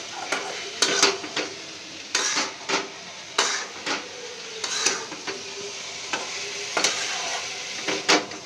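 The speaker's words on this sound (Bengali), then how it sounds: "এই দেখো আলু ভাজা করছে" Potatoes frying in a pan with a soft steady sizzle, punctuated by repeated scraping and tapping of a new metal spatula stirring against the pan in irregular bursts.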